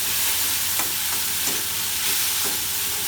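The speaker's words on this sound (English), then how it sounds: "Just how hot the wok is, the noise." Prawns in tamarind liquid sizzle and fry in a very hot wok, giving a steady loud hiss with a few sharper crackles and stirring scrapes close by.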